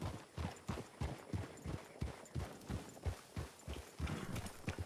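Horse hooves clip-clop steadily in Red Dead Redemption 2, a close, even walking rhythm of dozens of hoof strikes carrying on without pause, with no talk over them.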